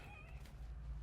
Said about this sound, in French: Le petit chat.